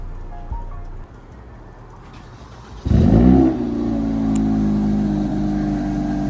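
A car's cold start outdoors in rain: cranking and a sharp catch near three seconds, then a loud, steady idle with exhaust valves closed, the drone holding strong to the end over a rainy background.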